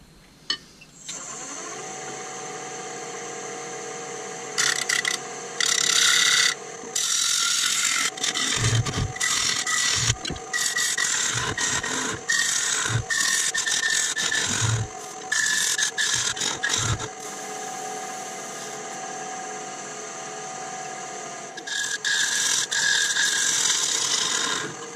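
A woodturning tool is sharpened on a Tormek sharpener, a steady mechanical hum under loud rasping grinding that starts and stops in repeated passes over about twenty seconds, close and without talking.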